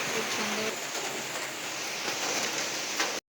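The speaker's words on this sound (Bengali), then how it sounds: "বৃষ্টিও চলে এসছে মারাত্মক জোরে" Heavy rain pours down in a steady, dense hiss that stays loud and even throughout, with no voices heard, before cutting off abruptly at the end.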